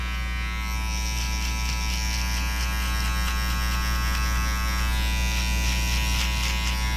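A Wahl 5-Star Detailer hair trimmer buzzes continuously at a steady, loud pitch, running alone for several seconds at a barber's station.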